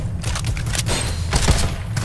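Rapid gunfire in the video game Farlight 84, a dense loud fusillade of overlapping shots lasting the whole brief moment.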